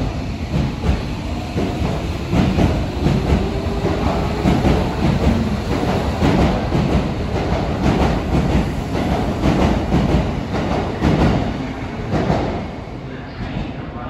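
A Hibiya Line subway train rumbles and clatters steadily through above-ground Kita-Senju Station, loud and close, with wheel clicks and station noise throughout.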